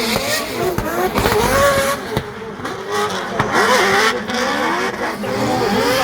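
At a Drift Masters round in Ireland, drift cars including a GR86 scream past at full throttle, engines wailing and rising in pitch over squealing tyres, loud and close, with a commentator's voice underneath.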